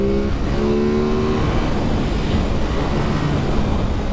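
An Aprilia RS 660 motorcycle accelerates hard to overtake, its engine note climbing in pitch as it revs. Continuous rushing wind and road noise sit under the engine, which is close and loud throughout.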